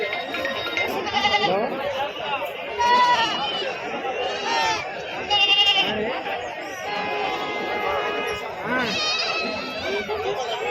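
Several goats and young kids bleat repeatedly at a livestock market, overlapping each other amid steady crowd chatter and people talking nearby.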